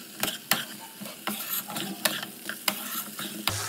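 Fried cauliflower and potato stirred through spice masala in a pan, for a Bengali vetki fish curry, give a steady sizzle broken by sharp, regular scrapes of the spatula, close and fairly loud with no voices.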